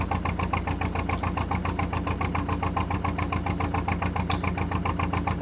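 A small boat motor runs steadily close by, its fast regular chugging pulses forming an even mechanical beat with a buzzing, knocking edge and no break.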